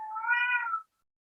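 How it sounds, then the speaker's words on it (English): A cat meows once, a single drawn-out, rising-then-falling call lasting under a second, fairly close and clear with no talking over it. "I'm sorry, that's my cat."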